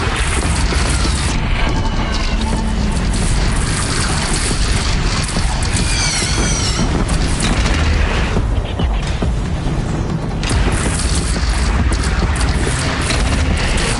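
Heavy cannon fire from the Horizon Zero Dawn final battle, continuous loud booming blasts and crashes layered over dense rumbling battle noise, with no clear talk.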